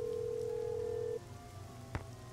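Steady rain falls in the Nancy Drew: Legend of the Crystal Skull video game, a constant wash of drops on a surface with a sustained electronic tone early on and a brief tap near the end.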